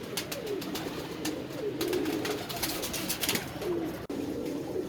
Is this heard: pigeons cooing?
yes